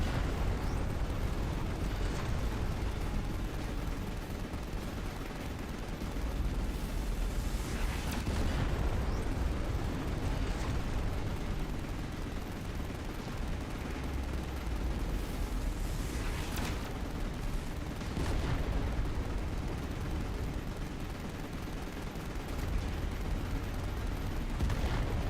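Gunfire and explosions from battles in the StarCraft video game, a continuous dense roar of shots and blasts with several louder bursts, steady and loud throughout with no speech.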